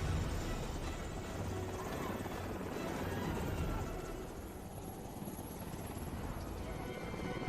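A helicopter in a film action scene, a continuous rotor and engine roar that dips slightly partway through, mixed with other scene sounds and possible voices.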